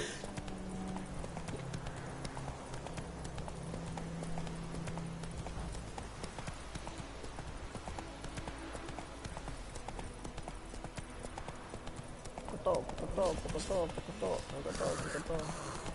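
Horse hooves clip-clop steadily through The Witcher 3 video game, a rhythmic mid-distance trot heard under game music and someone talking throughout.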